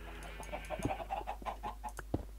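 Minecraft chicken clucking in a series of short, quiet clucks over a low steady background hum, with a couple of sharper pops mixed in and no talking.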